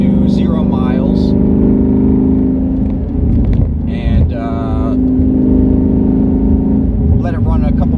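A 2019 Ford Mustang GT idles in a driveway with a loud, steady low rumble, heard close, while someone talks over it in short bursts.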